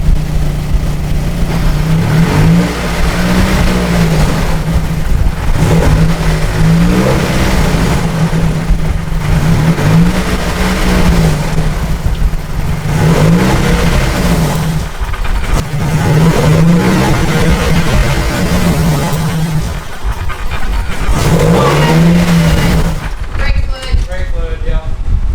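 A car engine runs and revs in repeated rising surges during a brake pressure test in a garage, loud and close, with speech present.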